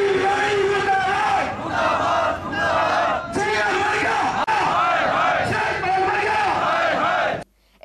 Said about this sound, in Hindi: धरने पर बैठे कर्मचारियों ने प्रदर्शन करते हुए अपनी विभिन्न मांगों को लेकर जीएम के खिलाफ जोरदार नारेबाजी की